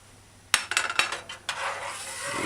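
A spoon clacks and scrapes inside a pot of cho-cho and okra stew with coconut milk, thyme and pimento berries, a few sharp knocks followed by a soft wet sizzle, close and alone.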